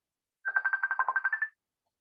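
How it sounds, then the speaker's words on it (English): A phone ringtone: a single burst of quick, evenly pulsed electronic trills lasting about a second, clear and alone against silence. "Is that your phone ringing?"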